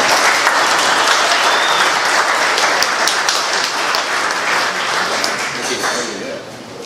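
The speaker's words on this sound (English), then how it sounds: "a big round of applause for Will." A dense, loud round of applause from a live audience welcoming a guest onto a stage at a basketball talk night, sustained and close before tapering slightly at the end.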